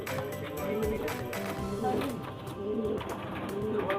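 A Fulshira pigeon hen coos nearby in repeated low, throaty phrases, steady through the whole stretch with a faint background murmur.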